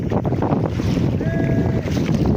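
Strong wind buffets the microphone at sea during cuttlefish fishing, a constant rushing roar with the wash of water and a faint tonal whine partway through.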